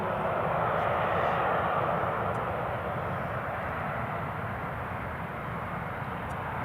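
A jet airliner roars down runway 07 at Newcastle International Airport on takeoff, a loud, dense and steady broadband engine rumble that stays close and constant throughout, with no voices.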